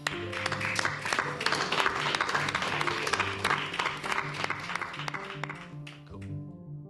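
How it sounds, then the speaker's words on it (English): Live audience applause at a podcast recording on Welsh parliament reform, steady dense clapping filling the room for several seconds before tapering off at the end, with some faint voices beneath. "Give everyone a round of applause, please."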